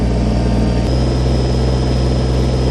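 A Kubota BX23s compact tractor's engine drones in a steady, loud, close rumble as the LA340 front loader presses down to lift the wheels slightly off the ground, with a faint shift in tone partway through, no speech.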